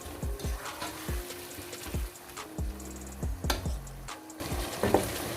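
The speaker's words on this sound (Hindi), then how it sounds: "अब हम इसको अच्छे से भूनेंगे, फिर इसके बाद हम इसमें स्पाइसेस डालेंगे।" Spice masala frying in a pan for an egg and chickpea curry, a soft steady sizzle under repeated light knocks and scrapes of a spoon, some with a short ringing tone, close and fairly quiet.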